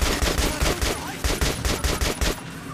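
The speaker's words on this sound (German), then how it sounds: "die schießen aber scharf" Rapid bursts of enemy gunfire in the video game Metro Last Light, a loud rhythmic volley of repeated shots filling the whole stretch with no talk.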